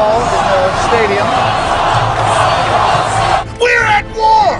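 Large stadium crowd cheering and yelling for Ron Paul, a loud dense roar of voices with whoops rising above it, briefly dipping near the end.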